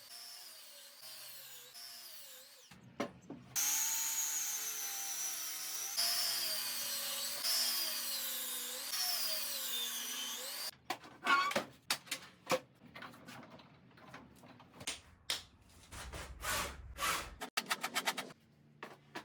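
A table saw runs with a sustained high whine while cutting 2x4 lumber and plywood for a workbench, followed by a string of short knocks and clatters as the wood is handled, loud and close.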